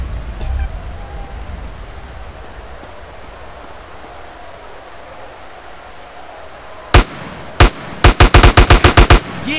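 Gunfire in GTA San Andreas arrives late as sharp, loud reports: two single shots followed by a rapid burst of about eight evenly spaced shots, heard over a quiet low rumble of ambience.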